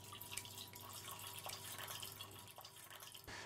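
A thin trickle of water pours steadily for a few seconds, with faint kitchen clatter and a low hum in the background.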